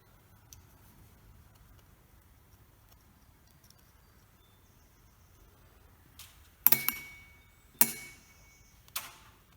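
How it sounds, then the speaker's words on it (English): Small metal screws from a Farmall Super A tractor carburetor teardown dropped one at a time into a magnetic tray, giving three or four sharp clinking taps after a quiet stretch. "Put all the screws in a magnetic tray so they don't get lost."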